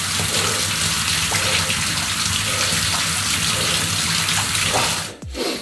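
A shower tap runs in a steady, close hiss of falling water for a cold shower after a regular one, with a brief abrupt change near the end.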